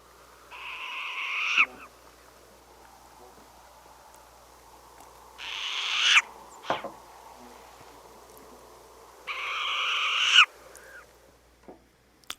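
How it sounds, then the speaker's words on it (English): Short-eared owl calls recorded in the wild, three raspy, hoarse barking phrases spaced a few seconds apart, fairly faint against a quiet background. "Let's listen to a short-eared owl."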